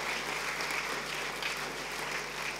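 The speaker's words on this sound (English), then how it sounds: "Should we give him a clap for that?" A church congregation claps in a dense, even round of applause that fills the whole short moment at steady loudness, with no voices over it.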